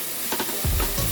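Potatoes and carrots are stirred in a saucepan for a soup, giving a brief soft scrape and shuffle over a low simmering hiss.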